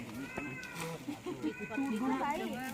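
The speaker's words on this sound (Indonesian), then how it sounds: "Kucing." Domestic cat meowing repeatedly at close range, several drawn-out cries with people talking in the background.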